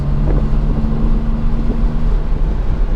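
Turbocharged BMW 128i engine on a track, a loud steady low droning hum with wind buffeting the microphone throughout.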